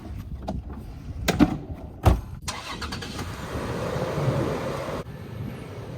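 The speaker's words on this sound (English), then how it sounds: "But first, we're going to move the car back this way." A Toyota 4Runner at a hillside campsite starts up and creeps back a couple of feet, with a couple of sharp knocks early on, then a steady close engine rumble that cuts off near the end. No one speaks.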